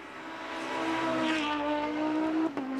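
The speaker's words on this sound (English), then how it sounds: "Singing beautifully, the 5-cylinder engine in that Quattro just sounds glorious." A five-cylinder Audi Quattro race car engine sings at high revs on a race circuit, a rising harmonic wail as the car passes at moderate distance, then briefly drops at a gear change.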